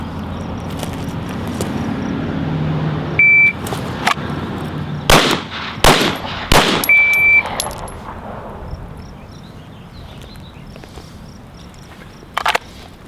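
Pistol shots in a timed left-to-right headshot drill, several sharp loud reports in a quick cluster, a beep from a shot timer before them and one more shot near the end.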